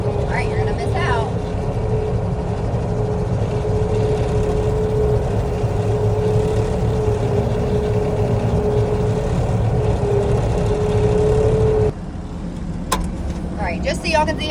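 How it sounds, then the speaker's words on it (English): A feed truck drives along a cattle trough while augering feed, its engine a loud steady drone with a whining mechanical tone that cuts off near the end, as someone talks over it. "I'll drive down this and auger it right into the trough."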